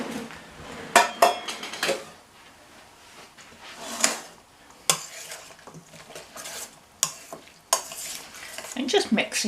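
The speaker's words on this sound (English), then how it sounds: "And just mix it all around." Pasta coleslaw salad with spring onions, tomatoes and boiled eggs being stirred and tossed in a bowl, giving irregular scraping, clinking bursts of utensil against dish, close and fairly loud, with no talking.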